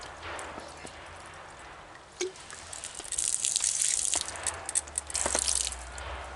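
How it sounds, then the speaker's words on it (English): Water poured from a container down the spout of a pot set up for boiling noodles, a steady gushing splash with some drips, close and moderately loud, no talking. "just dump your water right down the spout"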